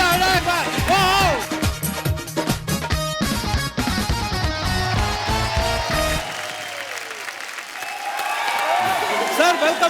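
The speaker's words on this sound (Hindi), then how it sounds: "जोरदार तालियां हो जाए एक बार।" A studio audience on a comedy talk show applauds guests, the clapping rising toward the end beneath loud band music and a voice.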